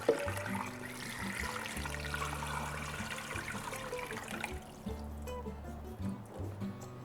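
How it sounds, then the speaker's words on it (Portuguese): Water poured into a pot of oxtail pieces to cover them while cooking oxtail with watercress, a steady running, splashing stream that carries on for several seconds. "E eu tenho agora a água que eu vou cobrir todos os pedaços."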